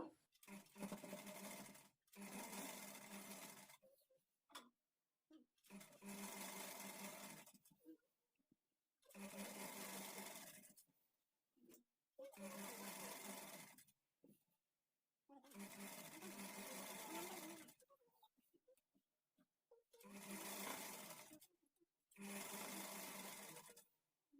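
A sewing machine stitches a fall onto the edge of a saree in repeated bursts of steady whirring, each run a couple of seconds long and separated by short pauses, up close and loud.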